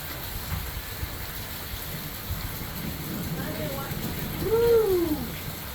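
A thunderstorm over Lancaster, California brings steady heavy rain hissing throughout, with a low rumble of thunder building in the later part.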